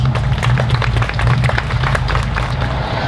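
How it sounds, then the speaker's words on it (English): A crowd applauds at the 2016 Oasis Shriners Parade salute to veterans, honoring combat-wounded veterans of Military Order of the Purple Heart Chapter 634. The clapping is dense and steady, with a low rumble underneath. "Please give these people a round of applause."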